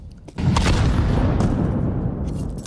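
A grenade detonates in a Counter-Strike match, one heavy boom that hits suddenly and then rolls off into a rumbling tail over a few seconds.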